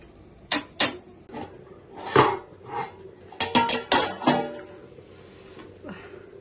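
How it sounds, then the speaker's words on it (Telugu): Metal clinks and scrapes ring out as a pot of masala chicken pulao is stirred and covered with a lid: a few sharp, separate knocks, then a cluster of clatters, fading to quiet. "ఇదంతా ఒకసారి కలిపేసి మూత పెట్టేసుకుందాం"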